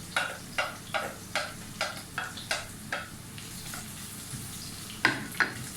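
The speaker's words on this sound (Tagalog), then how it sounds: "Igisa lang po natin mabuti" Garlic sautés in a pan for sarciadong isda, a tulingan fish dish. A spatula scrapes in a steady rhythm over a soft sizzle, the strokes growing gentler before a few sharper scrapes return near the end.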